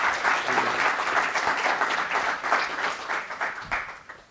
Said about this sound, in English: I think you deserve a real round of applause for doing that one off the hoof.